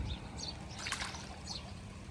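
Rainwater runs through a farm field after heavy rain, a soft, steady trickling and gurgling flow heard faintly and evenly throughout.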